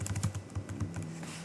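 Keys on a computer keyboard clatter in a quick run of light taps, close and fairly soft, with no talking.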